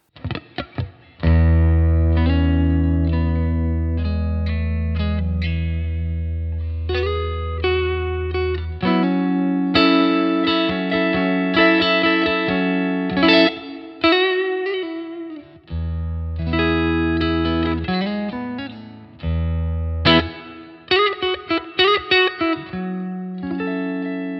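An electric guitar plays through preset 1-1 of a Blackstar IDX amplifier, a heavily processed, distorted tone, long sustained chords giving way to choppy riffs and stabs, loud and close.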